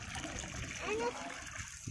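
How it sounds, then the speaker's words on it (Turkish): Water pouring from a bucket into a pool, a faint splashing trickle with a brief brighter splash near the middle, heard under soft background voices. "Şu kova şöyle su akıtıyor."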